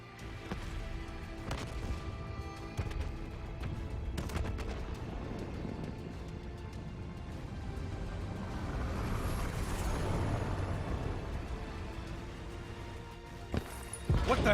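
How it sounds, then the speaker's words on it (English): Multiple explosions rip across a facility in the video game Call of Duty Black Ops 3: a few sharp, heavy booms stand out over a constant roar of battle, with a loud final blast at the very end. "Hendricks, we have multiple explosions across the facility."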